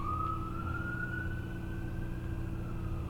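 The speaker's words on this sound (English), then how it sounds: "You hear the sirens?" A siren wails in the distance, its tone slowly rising and holding, over a constant low traffic rumble.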